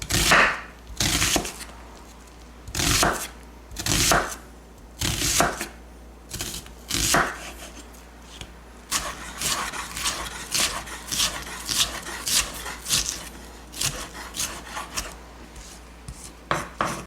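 Knife slicing an onion on a cutting board, a run of crisp rhythmic chops, first spaced out, then faster and steadier, close and without talk.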